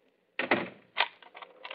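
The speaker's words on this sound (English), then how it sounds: "Would you mind standing here until you hear me lock my door?" A door is locked at night as wind blows outside: a close rattle and clack of the latch and bolt, followed by a few smaller clicks.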